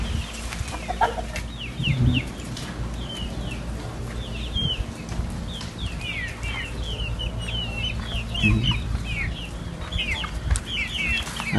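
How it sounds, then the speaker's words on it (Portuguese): Hens cluck and chatter continuously in a backyard chicken coop, with many short overlapping calls, occasional louder squawks and brief wing flaps over a low steady background hum. "Aqui o galinheiro."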